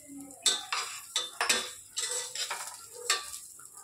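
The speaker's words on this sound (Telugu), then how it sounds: "రైస్ కూడా నేతిలో వేయించుకోవాలి." Rice fries in ghee in a pan for payasam while a spoon stirs it, producing a quick series of distinct scraping clinks over a faint, light sizzle, close by.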